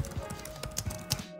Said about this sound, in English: Very gummy keyboard